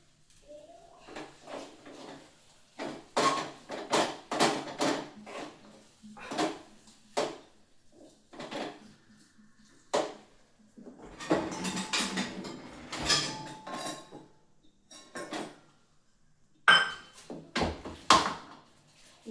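Dough for Marathi puran poli being kneaded by hand, a quiet, irregular series of soft slaps, presses and thumps with pauses between, close and alone.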